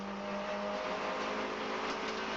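Volkswagen Golf cup race car accelerating on a circuit, a steady, fairly distant engine drone with a high whine, heard on a broadcast with no talking.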